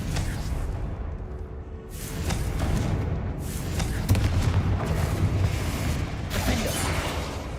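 Confringo fire-blast spells in the video game Hogwarts Legacy, a loud, continuous barrage of booming explosions and whooshing blasts that overlap with little pause.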